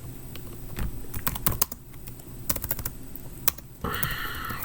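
Someone types on a computer keyboard, sending out quick irregular runs of clicky keystrokes. A few louder key hits stand out, and a short burst of sound comes near the end.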